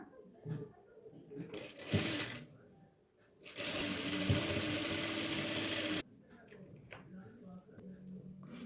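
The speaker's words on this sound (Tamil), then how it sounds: "லேஸுடைய ஓரப்பகுதியில் இன்னொரு ஸ்டிச்சிங் பண்ணிக்கலாம்" A sewing machine runs a burst of stitching along the edge of lace on a yoke nighty neckline, loud and steady for a couple of seconds, with a short earlier burst and quieter handling sounds and talk around it.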